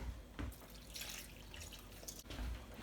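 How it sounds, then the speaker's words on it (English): Cold water, a litre of it, is poured into a pot from a tap or jug, a steady splashing stream running throughout, close and moderately loud with no talking. "I'm going to fill this up with, I've got a litre of cold water here"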